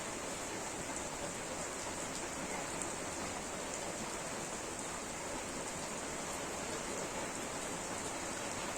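Rain falls steadily on a village home, a soft, even wash of drops on surfaces that continues unbroken with no voices.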